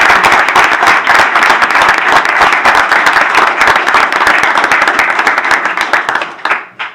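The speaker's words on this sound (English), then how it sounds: "So one more applause" Steady applause from an audience at a city council meeting, dense clapping holding for several seconds and then thinning into a few scattered claps before stopping.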